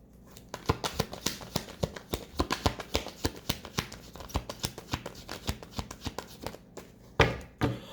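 Tarot cards are shuffled in quick, crisp riffling flicks, a rapid run of soft close-up snaps and slaps with a slightly heavier burst of handling near the end.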